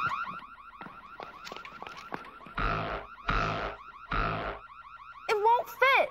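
An electronic alarm on an alien planet where heat rays are part of the alarm system warbles in a steady repeating pattern, broken by three loud bursts of rushing noise and ending with sharp rising tones.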